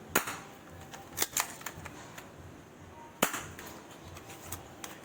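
A spring airsoft gun fires in sharp, close snapping shots: one at the start, two near one second, and a loud one past three seconds, with quiet room noise between.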